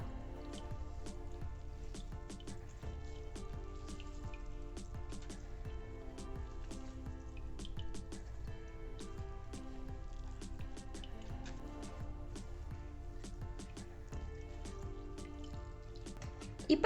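Water dripping and trickling out of homemade paneer hung in a cloth after curdling with ice water, a steady patter of small drops close by, with no talk over it.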